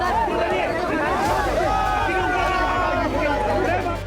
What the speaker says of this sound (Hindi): बाबा बागेश्वर को देखने हजारों की भीड़ उमड़